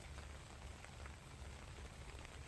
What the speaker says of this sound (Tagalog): Nag-ulan-ulan pa rin kasi.